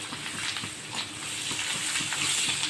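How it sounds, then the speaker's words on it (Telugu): Cooked lentils tipped into a hot tempering of asafoetida and turmeric in a pan, a close, bright crackling sizzle with bursts of spitting and stirring, no speech. "పప్పు అయితే దీంట్లోకి వేసుకుందాం ఇప్పుడు."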